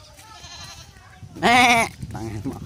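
Goats bleat nearby, one loud wavering bleat standing out among fainter ones, while people talk in the background.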